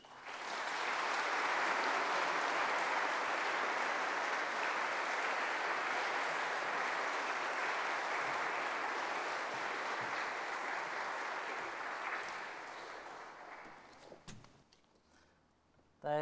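Sustained audience applause welcoming a guest speaker at a morning church service, loud and steady for about twelve seconds before tapering off into faint footsteps and room noise.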